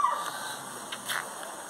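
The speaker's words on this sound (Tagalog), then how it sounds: "Tinatahulan ako ng aso." A dog barks a couple of short, faint times in the distance near a river, over a quiet outdoor hiss.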